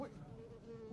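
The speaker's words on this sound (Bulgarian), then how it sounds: "Разкарай се, гадна муха!" A housefly buzzes close by with a steady, droning hum that rises in pitch at the very end. The short burst is fairly faint and has no talking over it.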